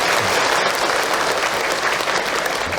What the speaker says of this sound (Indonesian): Tepuk tangan buat kita semua yang hadir.